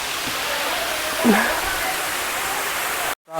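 The Ranajilleda waterfall gives a steady, broad roar with a brief faint voice partway through before the sound cuts out near the end.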